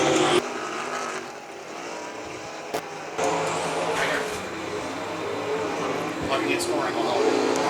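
Traditional sprint cars race at Tri-City Motor Speedway, engines roaring and surging past in bursts amid crowd and track noise, with a voice talking over the racing.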